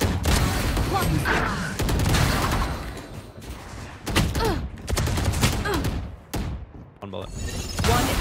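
Rapid gunfire from the Valorant shooter game, with repeated sharp shots and bursts in close succession throughout, loud and up front, mixed with game effects and intermittent speech.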